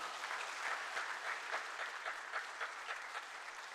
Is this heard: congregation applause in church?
yes